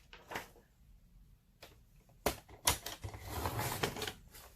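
Paper sheet, 12 x 12, being cut, with a few sharp snips and slicing scrapes building to a longer rasping cut near the end, quiet and close.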